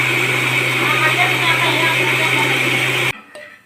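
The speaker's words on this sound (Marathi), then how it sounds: "चला आता मिक्सर परत चालून बारीक करून घेऊया." Kitchen mixer grinder running in a home, a loud steady whirring drone that cuts off abruptly near the end, followed by faint clatter.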